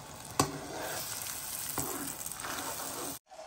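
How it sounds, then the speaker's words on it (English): Steady bright sizzling of an egg frying in a hot pan, continuous crackle with a couple of sharp pops, close by, ending abruptly. "Oh, I love a good old sizzle."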